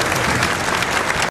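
A crowd in a Better Call Saul episode breaks into loud, dense applause, a brief steady burst of clapping that stops abruptly.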